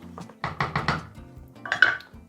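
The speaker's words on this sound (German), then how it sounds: "Und dann gebe ich noch den Wein dazu. Dann das Ganze gut vermischen" A spoon works through asparagus risotto rice with wine in a pot, giving several clattering, scraping strokes against the metal in a quick run, a pause, then a couple more, close by with no talk.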